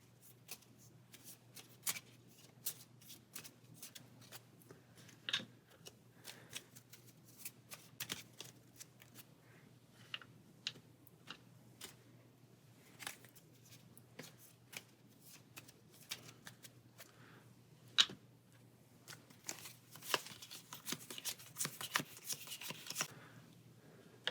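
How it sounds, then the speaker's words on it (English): Pathfinder Adventure Card Game location decks shuffled by hand at a table, a long run of quick riffling and soft card slaps, close and fairly quiet, with denser bursts near the end and a low steady hum underneath. "And now we can shuffle each of the location decks."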